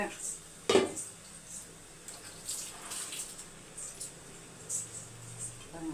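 An idli steamer pot in a home kitchen is handled, with a sharp metallic clank near the start followed by lighter clinks and scraping, plus faint water and a low background hum.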